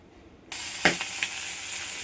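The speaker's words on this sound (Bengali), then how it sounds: "অল্প তেলে মাছগুলো ভেজে নিচ্ছি।" Catfish frying in a little oil, a sizzle that bursts on suddenly and holds steady, with a few sharper spits and crackles as the fish settles in the pan, close and alone.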